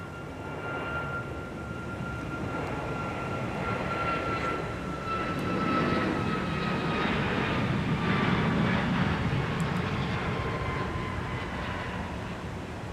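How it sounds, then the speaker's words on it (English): Delta Airbus A319 jet airliner at Minneapolis–St. Paul Airport, a distant broad engine roar that swells and fades, with a faint whine over it. "It's going to be a Delta A319."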